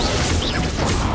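A Confringo spell blast in the video game Hogwarts Legacy, a short dense fiery burst with a whooshing crackle and rumbling impact, filling the whole brief moment.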